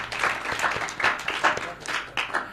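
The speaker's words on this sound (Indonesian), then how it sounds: "Tepuk tangan untuk Tuban." Audience applause for a student at a school dormitory cultural event, several bursts of clapping from a crowd rising and falling in quick waves, fairly close.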